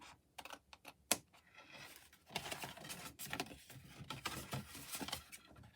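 Tabs being cut into a cardboard box, a quiet close run of crisp snips and rustling scrapes, several short cuts at first, then a denser stretch of cutting and handling, no voices.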